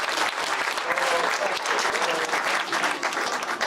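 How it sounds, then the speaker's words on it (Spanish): A church congregation applauds at a Father's Day service: dense, steady clapping from many people fills the room, loud and continuous from start to finish. "Un aplauso, por favor."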